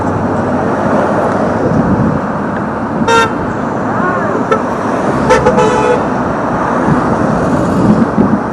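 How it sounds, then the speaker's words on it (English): Busy street noise with short car horn toots, two distinct honks breaking through the steady traffic rumble and voices. "I know you hear all these honks down here."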